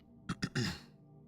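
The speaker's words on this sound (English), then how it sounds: "Sorry if I'm clearing my throat too much." A person clears their throat up close during a relaxed gaming session: three quick rough bursts, the last one longer and gravelly, over a quiet background.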